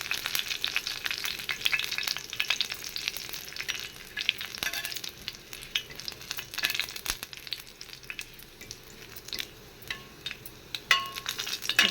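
Garlic fries in hot oil in a pan for a spicy egg roast, giving a steady close sizzle with scraping stir strokes throughout and no voices.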